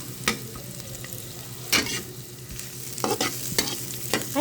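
Onion and garlic sauté in a pan with a low, steady sizzle. A few sharp scrapes and clatters of stirring cut in, and no voices are heard.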